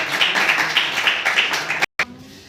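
Audience at a college speaking event clapping for a student, a dense run of hand claps that stops abruptly.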